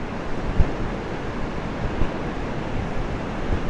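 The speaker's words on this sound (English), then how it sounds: "the wind has picked up even more than it was earlier" Gusty wind buffets the microphone over a steady roar of ocean surf at Trinidad Beach, loud and close, with occasional stronger gusts and no talking.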